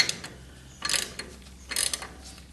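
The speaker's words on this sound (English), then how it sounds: "I'm going to just put a little bit of pressure on them with the ratchet." Ratchet wrench snugging bolts on a Corvette half shaft during installation, two quick bursts of rapid metallic clicking about a second apart, close and fairly quiet, with faint workshop hum between.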